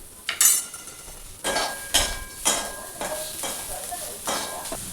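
Red chili powder and spice masala being stirred and dry-roasted in a pan for a drumstick bhaji, with a series of scraping spoon strokes and soft clinks against the metal, close and distinct, each stroke separated by short pauses.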